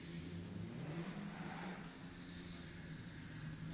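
A drift car engine at a drifting competition drones steadily with whooshing roar and a few sharp pops, heard from a distance amid constant noise.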